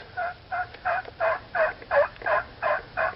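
A wild turkey gobbler gobbles in a string of about nine quick, evenly spaced calls. The calls are fairly clear and moderately distant, with no voices over them.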